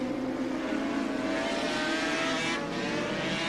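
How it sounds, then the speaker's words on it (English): Racing motorcycles, a Yamaha TZ 500 and a Kawasaki GPZ 900, roar past at a 1984 street race, a steady loud engine drone with a slight pitch shift as they go by, no talk. "Ken Stedman on the Yamaha TZ 500 in front of Glenn Williams on the GPZ 900."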